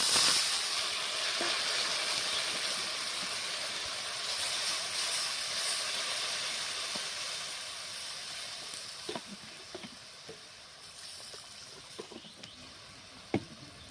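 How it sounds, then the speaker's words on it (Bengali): Spice water poured into a hot pan of fried vegetables with potato, a strong steady sizzle and hiss that slowly fades, a few utensil clicks near the end, close and without voices. "প্রথমে মশলার জলটা আমি দিয়ে দিলাম"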